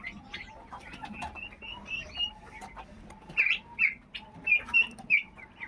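Several short clucks and squawks from chickens close by as they are fed grass, scattered over a low rustling background, growing busier toward the end.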